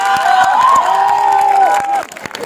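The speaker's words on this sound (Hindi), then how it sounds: "जोरदार तालियां" A college program audience in Gazole cheers with a loud, drawn-out whoop and shouting over scattered claps, the cheer sliding in pitch and cutting off sharply before a few trailing claps.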